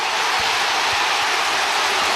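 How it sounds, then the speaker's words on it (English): Roar of a football stadium crowd at a Richmond vs Carlton AFL match, a loud, dense, continuous wash of cheering that runs without a break. "The crowd tells the story."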